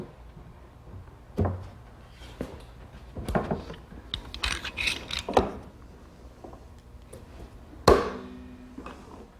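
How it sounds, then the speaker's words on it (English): Clamps are set and tightened against a wooden face frame on an old pine bar carcass, giving a series of knocks, clacks and ratcheting handling sounds at irregular intervals, close and moderately loud, with no talking. "now we'll set it together and secure it with some clamps"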